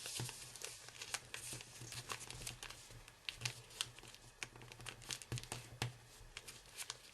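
Paper being folded and creased for an origami tyrannosaurus, producing soft crinkles and sharp crisp taps in an irregular rhythm, faint and close, with no talking.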